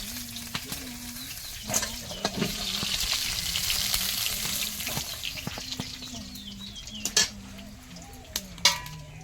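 Food frying in hot oil in a wok (kadai) while fish curry with potato and eggplant is cooked, a steady sizzle with clinks of a utensil against the pan, faint background talk and a melodic tone.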